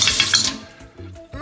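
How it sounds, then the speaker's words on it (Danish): Tap water pouring into a frying pan to boil noodles, a bright rushing splash at first that then drops to quieter trickles and gurgles, with brief voice-like sounds near the end. "Det er det vand her, du fylder på panden."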